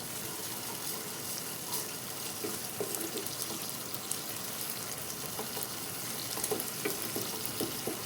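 Onion-tomato masala for a Bengali rui fish curry is pressed with a spatula and sautéed, giving a soft, fairly quiet sizzle with light scraping and small wet clicks, and no voices.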